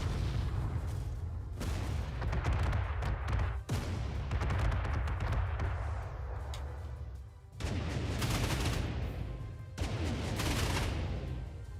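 Anti-aircraft fire and artillery in the video game Panzer Corps II crackle in dense, rolling bursts of gunfire and booms, broken by a few brief pauses, with no talk over them.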